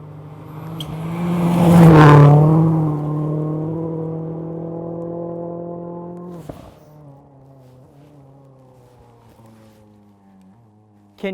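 A rally car races past on a gravel forest stage at the 100 Acre Wood Rally, a loud engine roar swelling as it approaches, peaking close by, then fading into the distance.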